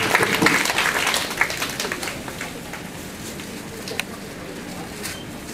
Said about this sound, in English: Let's give Dr. Nora a round of applause.